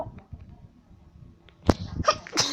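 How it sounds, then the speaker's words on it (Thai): A few short, sharp sneezes burst out in a Minecraft game, near and loud against a quieter background of faint sounds. "เกิดอาการจามกันเล็กน้อย"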